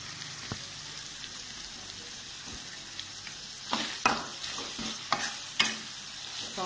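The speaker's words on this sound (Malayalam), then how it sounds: "നമ്മളുടെ എണ്ണ ഇവിടെ ചൂടായി വന്നിട്ടുണ്ട്. അപ്പോൾ നമുക്ക് സവാള ഇട്ട് കൊടുക്കാം. ഇനി നമുക്ക് നന്നായി ഇളക്കി കൊടുക്കാം." Chopped onions fry in hot oil for beef vada with a steady crackling sizzle, while a spatula stirs and scrapes the pan in several louder knocks toward the end.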